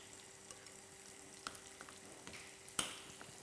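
Chicken frying in a pan with tomato, a quiet steady sizzle with a few sharp pops and crackles scattered through.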